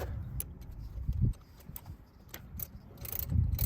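Ratcheting wrench clicking in short bursts while undoing a 12 mm nut on the starter of a Toyota Corolla, with quiet metallic ticks and rattles close by.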